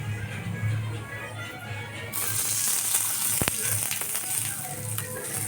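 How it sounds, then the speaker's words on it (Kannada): Tomatoes frying in oil in a pan for a North Karnataka vegetarian thali, a steady close sizzle with a brighter burst of crackle partway through and a faint low hum underneath. "ಈಗ ಅದ್ರ ಜೊತೆಗೆ ಒಂದೆರಡು ಟೊಮೆಟೊ ಹಣ್ಣು ರೀ, ಇವನ್ನ ಫ್ರೈ ಮಾಡ್ಕೋಬೇಕು"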